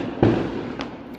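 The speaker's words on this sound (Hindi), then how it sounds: "और पटाखे चल रहे हैं अभी भी। रॉकेट्स चल रहे हैं कहीं कहीं पे, आवाज़ आ रही है तेज़ तेज़ पटाखों की।" Firecrackers and rockets go off outdoors at night after Diwali: one sharp, loud bang followed by a fainter distant pop, with a quiet rumble between them.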